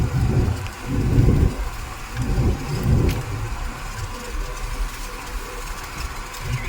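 A car drives along a road toward an off-grid building site, making a steady low rumble of engine and road noise with faint bumps, with no talk.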